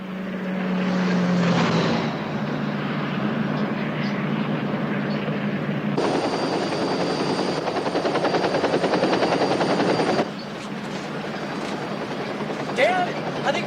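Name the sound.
helicopter following a car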